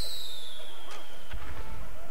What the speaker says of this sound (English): we have fireworks and the firework launcher